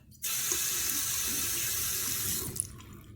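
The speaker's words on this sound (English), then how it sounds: "Wet the toothbrush." A toothbrush is wetted under a running bathroom tap, a steady hiss of flowing water that starts abruptly, runs for about two seconds and then cuts off, close and clear with no talking.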